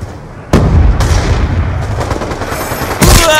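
Loud gunfire and explosive booms from the Call of Duty Black Ops 2 video game, sharp bursts over a dense, continuous battle roar, with no talk.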